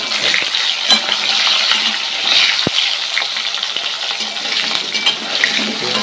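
Whole onions fry in a pan with a steady, close sizzle, broken by a few scraping stirs and a sharp tap partway through, with no talking.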